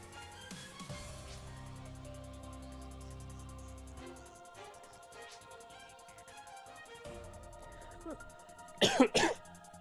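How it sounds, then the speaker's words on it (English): A person coughing after choking on water, a quick burst of several harsh coughs near the end, over quiet game music. "Sorry if I'm coughing a lot."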